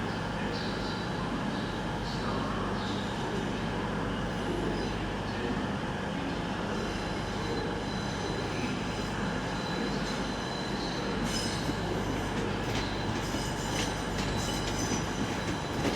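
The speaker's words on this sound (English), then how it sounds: "coming in now will be a Great Western Railway service to Paignton." A Great Western Railway passenger train rolls into Exeter St Davids station, a steady loud rumble of wheels and engine with some squealing and clatter throughout, heard close on the platform.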